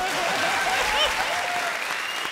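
Studio audience at a comedy show breaks into dense, sustained applause, loud and continuous for a couple of seconds, with no speech over it.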